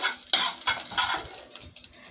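Black cumin seeds tempering in hot oil in a pan, stirred for a Bengali parshe fish dish, giving a soft, steady sizzle with scraping stirs and clinks of the utensil against the pan throughout.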